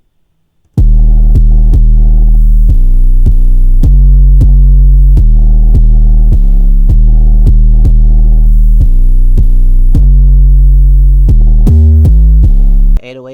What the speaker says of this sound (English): This is the second 808 pattern.